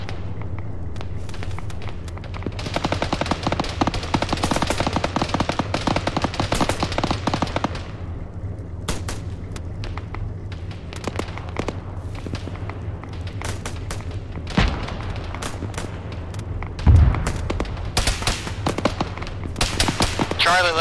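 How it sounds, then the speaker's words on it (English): Arma 3 video game combat with bursts of automatic rifle and machine gun fire and scattered single shots, steady and fairly loud through the whole stretch, with a heavier thump near the end and no voices over it. "Dslyecxi, you have fire on you."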